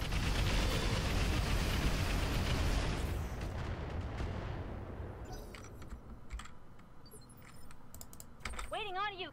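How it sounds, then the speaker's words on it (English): Heavy mech weapons fire and explode in the Roguetech mod of BattleTech, a loud dense roaring barrage for the first few seconds that fades into quieter rumbling and scattered clicks, with a brief voice near the end. "Alright, firing."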